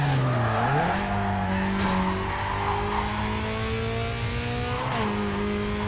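A race car in the video game Need For Speed Carbon roars through a run, its engine note sliding down and back up through gear changes, with brief tire squeal, loud and continuous with no talk.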